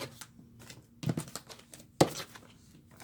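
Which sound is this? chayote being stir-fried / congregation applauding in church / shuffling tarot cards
shuffling tarot cards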